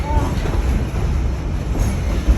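A Virginia & Truckee Railroad train runs along the rails near Virginia City, Nevada, with a steady, loud rumble and rolling wheel clatter heard close up from on board.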